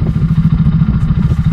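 An Italika 250Z motorcycle engine, put into first gear to pull away, runs with a loud, steady low throbbing pulse close by, with no talk over it.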